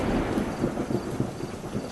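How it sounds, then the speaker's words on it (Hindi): Heavy rain pours outside with rumbling thunder in a dubbed horror film, a dense continuous wash of rain with low rolling rumbles and no speech. "बाहर जोरों से बारिश हो रही है"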